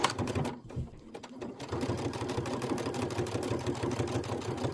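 A Kimberbell embroidery machine stitches out a design for a storybook pocket pillow, starting with a few stop-start bursts before settling into a fast, even needle chatter that runs on steadily and close.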